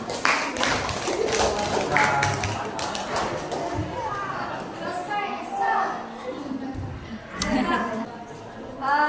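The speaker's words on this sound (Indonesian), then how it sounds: "Tepuk tangan buat kelompok 4." Applause from a school class, steady clapping mixed with chatter and voices in a classroom, moderately loud throughout.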